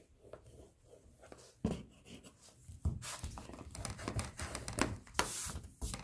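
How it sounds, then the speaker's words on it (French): Paper being creased along fold lines for a handmade photo album, heard as close, continuous scraping and rubbing strokes with sharper bursts, alone without talk. "on n'a plus qu'à venir marquer les plis"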